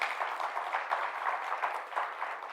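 A conference audience applauding a panel, a dense, even wash of clapping from a crowd, steady and moderately faint throughout.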